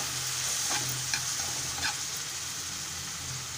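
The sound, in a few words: stirring onion tomato mixture with salt and turmeric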